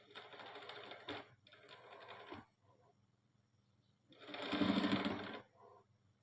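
Sewing machine stitching fabric along a side seam: close, rapid mechanical whirring in three bursts, the last longest, with brief quiet gaps between runs.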